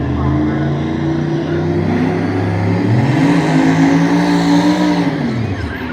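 A drag racing car roars loudly and steadily through a pass on the strip at the Death Week racing event, its engine pitch climbing and shifting as it pulls hard, with a voice faintly underneath.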